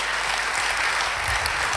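Congregation at a church service applauding steadily, a dense even clapping sound throughout with no talking over it.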